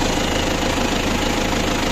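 A tractor engine running in a field, a loud, close, steady mechanical drone with a rhythmic knocking pulse and no speech.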